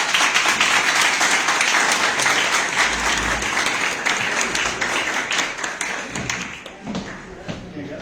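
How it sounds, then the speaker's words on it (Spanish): An audience at a cannabis talk in Brandsen gives a round of applause, dense clapping that starts strong and gradually thins and fades, with some talk emerging underneath toward the end. "Vamos a dar un aplauso a..."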